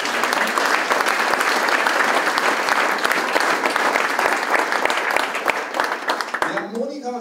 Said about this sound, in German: Also gerade großen Applaus.